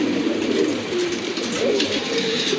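A pair of black homer pigeons among fancy pigeons coo in a low, rolling drone, close and continuous, with faint background noise and no speech.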